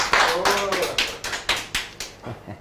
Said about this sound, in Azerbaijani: Əl çalın da